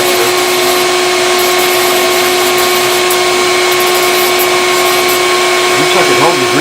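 A Dremel rotary tool grinds a Fender Stratocaster neck during truss rod repair, a loud continuous high-pitched whine held steady throughout, with a brief voice near the end.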